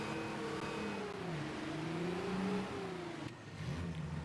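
A tractor engine drones in the Farming Simulator 23 video game, its pitch wavering up and down steadily before an abrupt shift near the end, with no talk over it.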